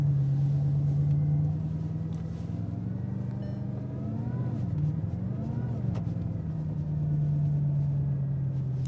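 A Bugatti Chiron Sport hypercar shifted into drive, its deep engine drone holding steady and loud close by, with a brief swell in pitch as it pulls away, while someone talks over it.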